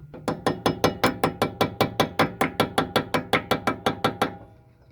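Steady run of about twenty sharp metallic taps, evenly spaced and close, as a rear brake pad is knocked into place on a Lexus IS F, trailing off into quiet.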